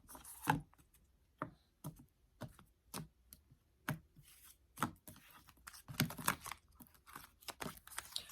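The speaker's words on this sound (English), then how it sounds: "I love the sound of shuffling" Soft, irregular snaps and papery riffles of tarot cards being shuffled up close, in quick clusters separated by short pauses.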